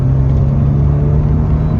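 A Saab's engine while driving, a loud, steady low drone and road rumble from inside the car, continuous and without talk.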